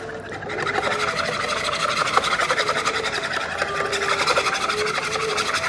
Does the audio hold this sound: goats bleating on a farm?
no